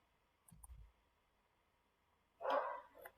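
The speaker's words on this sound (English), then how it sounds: "Apologies for the dog that has started barking in the background." A dog barks faintly in the background of an otherwise quiet room, with a short double bark followed after a pause by a louder, sharper bark.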